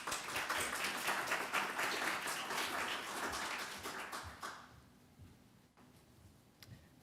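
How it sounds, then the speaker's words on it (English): An audience at a theology lecture gives a warm round of applause for about four and a half seconds, which then fades into a quiet room with a few faint taps and shuffles. "Let's give our first speaker a round of applause."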